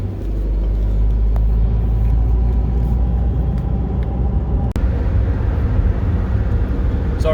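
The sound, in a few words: car driving down the highway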